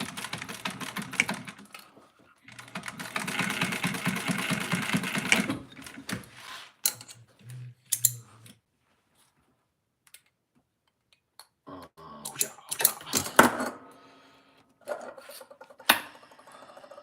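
An industrial sewing machine tacks down seam allowances on leather, running in two dense mechanical bursts with a rapid stitching rhythm. Scattered clicks, taps and handling noises follow between quieter gaps.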